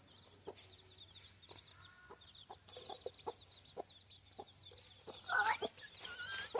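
Small chicks cheep and peep in scattered bursts nearby, with a few soft clucks and light knocks against a low background hum.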